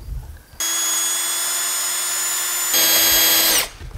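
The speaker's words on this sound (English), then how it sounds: "Now we're gonna pre-drill every 4 inches on the Hinge-a-Rooney." A power drill pre-drills holes every few inches through a folded-over hinge on a pallet couch build: a steady high whine for about two seconds, then a louder, harder-working stretch before cutting off.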